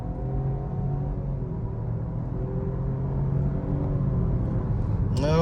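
Three-cylinder Ford or Chevy budget family car engine pulling hard under acceleration, a steady loud low drone with rising harmonic tones swelling toward the end.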